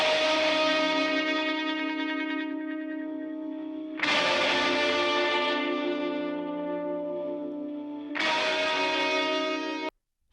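An electric rhythm guitar with a tremolo effect plays sustained, pulsing chords that follow the bass notes, struck three times at roughly four-second intervals, each ringing out before the next, with no talking.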